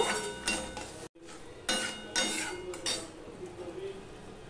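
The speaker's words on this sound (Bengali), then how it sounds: "এবার মশলাটা কষিয়ে নেব।" Spatula scraping and clinking against a pan while masala is stirred and fried for a fish curry, a run of close metallic scrapes and knocks with a brief break near the start.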